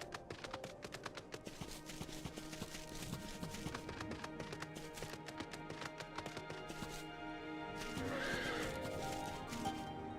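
Horse hooves clip-clop steadily with neighing and whinnying in Final Fantasy XIV, a moderately loud, continuous rhythmic trot with a louder burst near the end.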